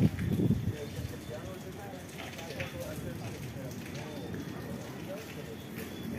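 Steady rain falls over Siloé during a thunderstorm, a continuous soft hiss of drops with a brief louder patter at the start, while a voice speaks over it.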